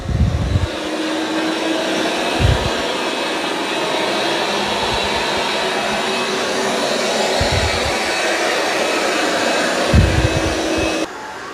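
Dreame robot vacuum cleaning a carpet, a steady whooshing suction drone with brief low thumps now and then, close and continuous until it drops off at the end.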